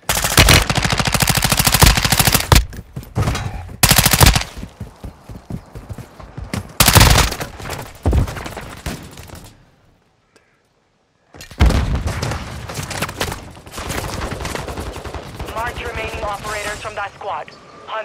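Call of Duty multiplayer gunfire: loud automatic bursts and single shots rattle in rapid clusters, fall silent for about a second, then start again. Radio-style game voice callouts can be heard between the shots.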